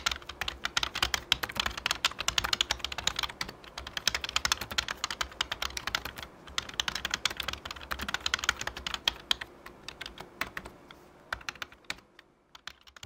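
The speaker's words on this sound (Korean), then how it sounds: "다시 한번 타건을 해볼게요." Rapid typing on a Logitech K480 keyboard fitted with a silicone key skin, a steady stream of soft, muffled key clicks with brief pauses, heard close up and alone.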